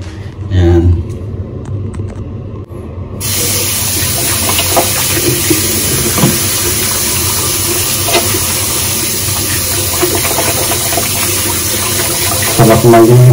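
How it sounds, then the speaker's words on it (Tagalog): Hands being washed under a running tap: a steady, close, continuous splash of water that fills the whole stretch, with a brief voice near the start. "Maghugas muna ako ng kamay Kapsat."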